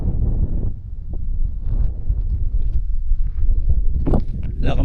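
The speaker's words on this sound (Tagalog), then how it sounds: "Wala kang marinig kundi hangin" Wind gusts across a mountain hiking trail at Jebel Jais, a steady low rumble buffeting the microphone, with faint rustles and steps.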